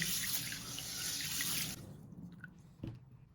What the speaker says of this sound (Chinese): 接下来把绿豆再倒进锅里面，加入清水， 用清水给它清洗干净。